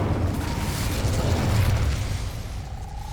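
A burst of the Incendio fire spell in Hogwarts Legacy, a dense, steady rumbling whoosh of flame, loud and close, lasting about three seconds and fading slightly at the end.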